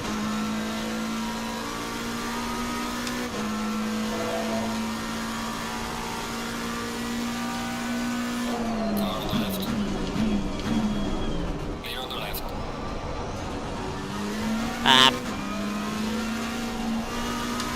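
Race cars in the Assetto Corsa Competizione racing game, including a Lexus, on the Kyalami circuit at night: a steady engine drone that shifts pitch as the cars brake and accelerate, with a commentator talking over it throughout.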